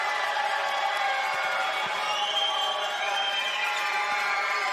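Outnumbered Bendigo Spirit fans keep up a loud, continuous cheer at a WNBL finals basketball game against Townsville Fire, a sustained crowd roar with no pauses.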